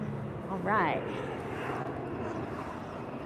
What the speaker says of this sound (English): Sorry about the plane.